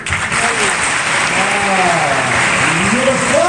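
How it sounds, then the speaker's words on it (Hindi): A crowd at a school gathering claps together in a dense, loud, continuous wash of applause that holds steady, with a few voices rising over it. "ताली"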